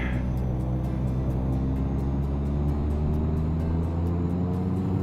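Evektor EV-55 twin turboprop in the X-Plane 11 flight simulator, engines spooling up as power is increased before takeoff roll: a steady, loud low droning rumble with layered tonal hum, continuous throughout without talk.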